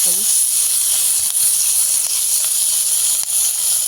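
Green chillies roasting for thecha give a steady, close, broadband sizzling hiss that runs continuously, broken by a few faint clicks and pops.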